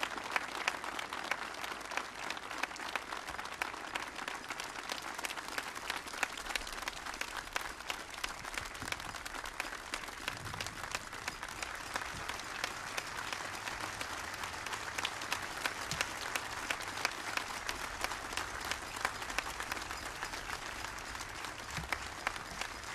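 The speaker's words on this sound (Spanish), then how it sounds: "reflejado con este caluroso aplauso" Warm, steady applause from a large crowd at an outdoor military parade ceremony, with dense clapping holding at an even level for over twenty seconds and no speech on top.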